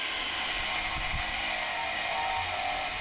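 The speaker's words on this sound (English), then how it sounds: "I'm actually going to cut mine out with the bandsaw" A bandsaw cutting a red oak longbow blank, a steady close-up whirring hum with continuous cutting noise and no pauses.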